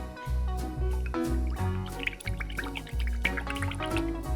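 A paintbrush dipped and swished in a cup of water while painting toy trucks, giving close, wet sloshing and dripping sounds in short repeated bursts, with no talking.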